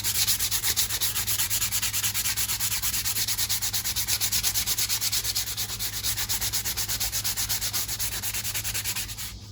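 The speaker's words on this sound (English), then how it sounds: "So we're just going to scuff this up a little bit just to make sure, you know, we ain't got no contaminants and whatnot on it." A piece of reclaimed leather is scuffed with abrasive in quick, even back-and-forth rubbing strokes, a rhythmic rasp close up with no talking.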